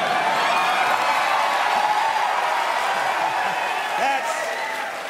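A Comic-Con studio crowd applauds a sandwich with loud, dense clapping and some whoops that hold steady and then fade slightly, as voices talk over the noise.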